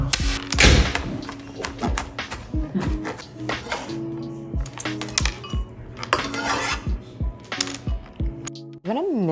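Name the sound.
chopping portobello mushrooms with a knife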